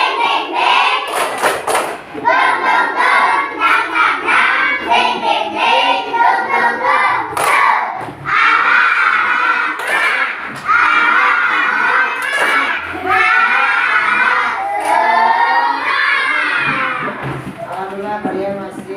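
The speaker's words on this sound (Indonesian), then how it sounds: "Coba tepuk semangat baru." Fourth-grade schoolchildren in a classroom perform a tepuk semangat clapping chant, loud group voices chanting in rhythmic bursts punctuated by sharp, regular hand claps and thumps, close and energetic throughout.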